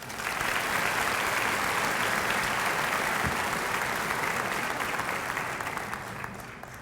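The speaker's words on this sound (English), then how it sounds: "Let's give ourselves a round of applause." Graduation audience at a high school ceremony applauding steadily, a dense sustained wash of clapping from a large crowd that holds loud for several seconds and then starts to taper off.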